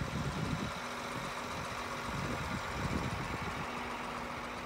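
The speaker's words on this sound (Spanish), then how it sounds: "That's a tractor." A tractor engine idles in a steady, unbroken low rumble with a constant droning hum, close and moderately loud for the whole stretch, with no voices.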